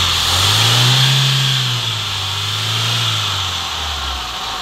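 A Toyota Corolla engine with a smoking fault is revved close by, its low hum swelling up, easing back and rising again over a few seconds, loud and without talking.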